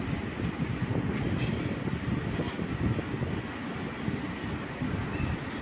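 The Sabari Express pulls into a platform at Kollam Junction with a steady, rumbling roar of the rolling train, its rhythmic clatter continuous and fairly near, with no voices.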